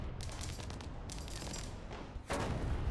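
A Sho't Kal Dalet tank explodes in the War Thunder video game, with loud rumbling blasts and gunfire bursts ending in a sudden, heavy detonation.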